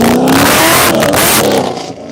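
A race-prepared Corvette roars past on a track at Grissom Air Force Base, its engine loud and close with a rising then falling pitch as it sweeps by and fades.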